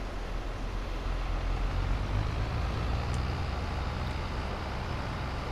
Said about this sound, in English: I will follow behind in the tractor.